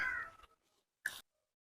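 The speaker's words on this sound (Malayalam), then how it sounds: "ഇവിടെയുണ്ട് പൂച്ച" A cat meows twice nearby, a drawn-out meow followed by a short, sharp one after a brief pause.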